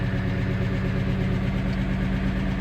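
A Case 2090 tractor's diesel engine runs steadily at idle, a loud, constant low rumble with no pauses or talk.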